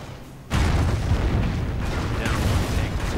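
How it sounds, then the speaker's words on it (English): Artillery shells exploding in a real-time strategy game match: a sudden heavy boom at half a second followed by a sustained roaring, crackling barrage of blasts, loud and dense to the end. "Artillery getting called in,"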